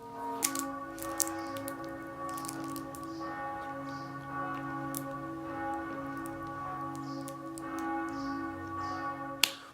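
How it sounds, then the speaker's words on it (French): Church bells ring in a layered, resonant peal, several tones overlapping and sustaining, with a few sharp clicks scattered through. "Oh non, pas les cloches maintenant"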